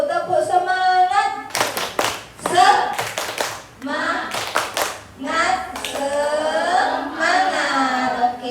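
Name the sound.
group doing rhythmic spirit clapping icebreaker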